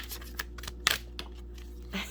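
Tarot cards are shuffled by hand in a quiet room, giving soft papery riffles and crisp snaps at irregular moments, with one louder flick partway through, faint and close.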